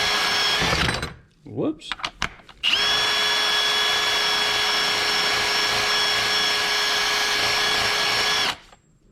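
A high-pitched power tool spins a Scotch-Brite pad to clean an LS fuel injector, whining loudly in two steady bursts with a short gap of handling noise and a brief spoken word between them.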